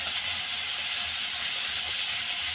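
Tomatoes fry in a pan for an onion chutney, producing a steady, close, unbroken sizzling hiss with no talking.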